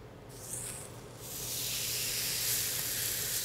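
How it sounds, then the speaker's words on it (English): Marinated steak sizzles on a hot, smoky grill, a steady broadband hiss that swells after a brief quieter start and holds loud and close. "You hear that nice sizzle? That means your grill is hot, nice and smoky."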